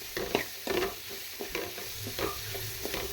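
Close sizzling and frying of turkey berries in oil with repeated stirring scrapes in an uneven rhythm, no voices present.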